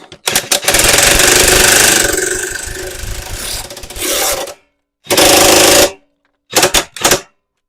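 A Toro Super Recycler lawn mower, just repaired for a blade clutch fault, rattles loudly for about four seconds, then cuts out and fires in several short, harsh mechanical bursts separated by silence.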